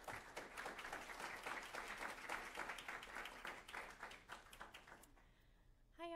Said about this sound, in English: would you please give her a warm round of applause?